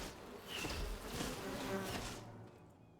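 Bees buzz in Enshrouded, a dense, close insect drone that swells and fades before trailing off.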